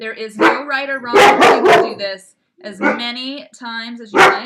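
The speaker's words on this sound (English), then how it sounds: "I apologize for the dogs barking." Dogs bark indoors in a small house, sharp yips and barks mixed in with and partly masked by a person talking steadily throughout.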